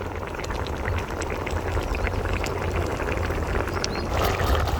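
Steady bubbling and gurgling of chicken and mutton meatball gravy boiling in a pot, a continuous close simmer with small popping bursts.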